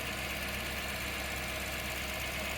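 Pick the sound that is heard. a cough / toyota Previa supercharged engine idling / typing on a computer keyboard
toyota Previa supercharged engine idling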